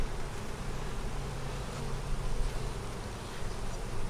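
Honey bees in an 8 frame hive hum in a dense, steady buzzing drone, close and continuous.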